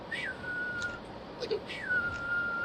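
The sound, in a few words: person whistling to imitate a call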